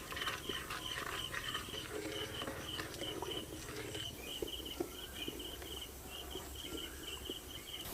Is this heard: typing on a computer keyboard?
no